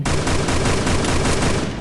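Rapid bursts of automatic gunfire in the video game Free Fire, loud and continuous for a couple of seconds, with no voices.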